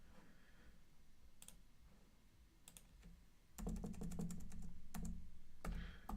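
Sparse, quiet keystrokes on a computer keyboard, then a quicker burst of clicky typing with pauses between runs.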